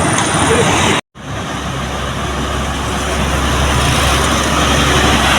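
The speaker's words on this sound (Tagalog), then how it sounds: "Traffic." Loud, steady roadway rumble of cars, trucks and trailers on a road in Compostela. The drone is continuous, cutting out for a moment near the start.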